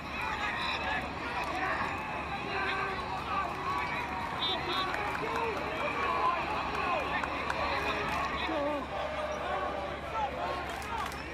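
Maryland fans stand and applaud in a stadium during an NCAA men's lacrosse quarterfinal against Duke, a dense, steady roar of crowd noise and scattered clapping running throughout, with a voice talking over it.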